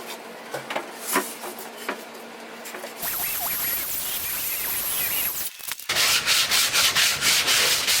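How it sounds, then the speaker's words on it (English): A belt sander grinds across a wooden paddle board nearby, starting with a few scrapes, then a continuous loud abrasive rasp that briefly cuts out and resumes with rhythmic surging strokes. "The belt sander makes quick work of this."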